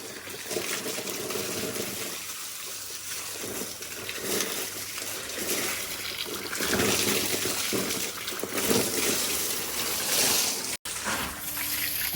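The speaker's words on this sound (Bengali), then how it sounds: "এই ওয়ালটায় জল দিয়ে দিই" Water from a hose pipe poured onto a newly laid brick wall at a house under construction, a steady splashing trickle and gush that keeps going with no break, close and moderately loud.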